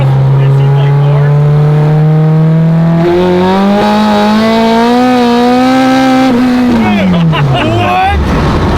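A 450whp Honda car on nitrous screams as it accelerates hard through a gear, engine pitch climbing steadily before dropping off near the end, loud and close from inside the cabin with occupants talking over it.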